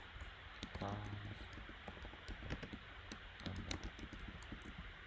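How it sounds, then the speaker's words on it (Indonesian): Fingers type a password on a computer keyboard in quick, uneven clattering keystrokes close by, running under steady talking throughout. "lalu ketik password"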